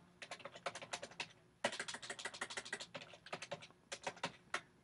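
Someone types lab data into a spreadsheet on a computer keyboard, producing close, fairly quiet bursts of rapid key clicks separated by a brief pause.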